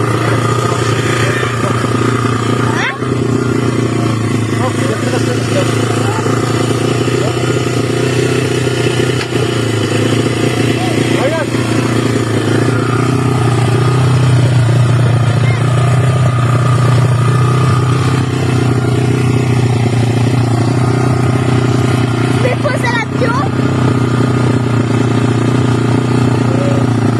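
A motorcycle engine runs steadily and loudly throughout, a continuous low drone with clattering mechanical texture and slight surges, as the bike sputters while broken down.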